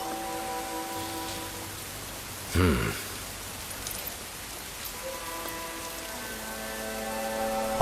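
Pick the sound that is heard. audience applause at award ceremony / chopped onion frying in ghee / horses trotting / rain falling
rain falling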